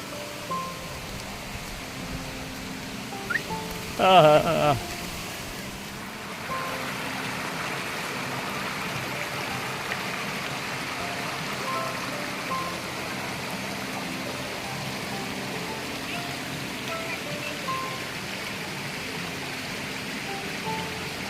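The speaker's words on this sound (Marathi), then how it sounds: "हा बघा कोडवीचा धबधबा" Waterfall at Kodvi in the monsoon season, a steady broadband rush of falling water that runs throughout, with a brief louder splash or knock early on and no talking.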